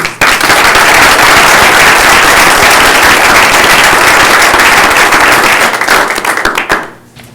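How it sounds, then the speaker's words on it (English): Loud, dense applause fills a board of commissioners meeting room, many hands clapping continuously for about six seconds before fading out quickly at the end. "one final round of applause for all of them"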